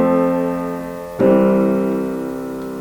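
A plagal amen cadence, chord four resolving to chord one, played as two sustained harmonic chords; the second chord enters with a sharp attack just past a second and rings out slowly, decaying alone without any talk.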